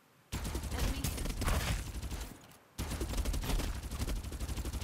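Gunfire in the battle royale game Farlight 84: loud, dense bursts of rapid automatic shots, a brief gap, then another sustained volley.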